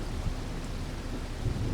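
Steady rain pours in Farming Simulator 25, a dense, continuous hiss with low rumbling underneath, close and fairly loud throughout.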